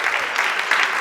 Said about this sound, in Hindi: पद्मश्री सोनू निगम जी की तरफ हम जोरदार तालियों के साथ अभिनंदन करेंगे इनका।